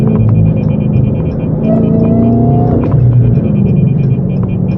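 A 717hp car on a highway commute gives a steady, loud engine rumble and throbbing drone with road noise, holding at a constant level throughout without any voices.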